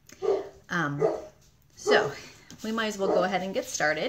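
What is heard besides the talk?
dog barking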